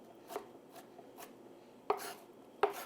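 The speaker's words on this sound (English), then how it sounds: "Now, just run your knife through it a couple of times and make sure you get it nice and small." A knife chops through an onion on a cutting board, a few soft, irregular cuts followed by two sharper, closer strokes, fairly quiet with no talk.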